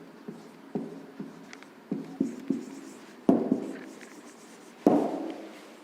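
Writing on a classroom board during a lesson: a series of sharp taps and scrapes in irregular rhythm, with a few louder strikes near the end, close and fairly clear with no talking.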